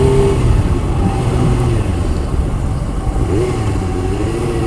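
A 1999 Suzuki GSXR 750 SRAD sport motorcycle being ridden, its engine a loud continuous drone with steady mid-range tone and slight pitch shifts, heard up close with wind rumble.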